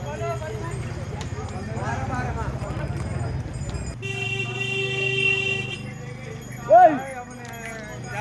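A horse's hooves clip-clop on a pilgrimage route while a rider waits, with rhythmic clopping under close talk, harness jingling and a short loud horn-like toot near the end.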